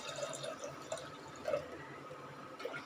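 Water being poured onto lentils in a cooking pot while making radish sambar, heard as a faint, uneven trickle and splash with a few small drip-like accents, quiet and close.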